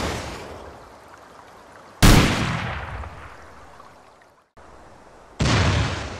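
Rocket launcher in the video game Rust firing, with a sharp loud blast that trails off in a long decaying rumble, followed by a second blast a few seconds later, with no talk.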